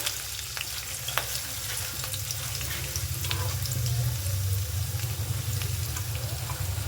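Onions and curry leaves sizzle steadily in a hot pan, a continuous close frying hiss with occasional stirring scrapes, no voices over it.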